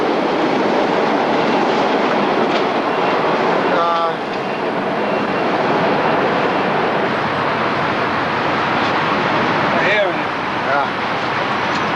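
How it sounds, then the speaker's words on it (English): An MBTA Orange Line train rumbles past below a bridge under construction, a loud sustained roar filling the whole stretch with brief squeals, heard from above on the deck. "Live trains below us here, orange line going to Boston."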